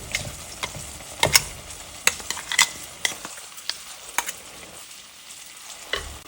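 A vegetarian curry for a lunch side dish simmers and bubbles in a pan while ground coconut paste is stirred in, with steady sizzling and scattered sharp clicks of a spoon against the pan.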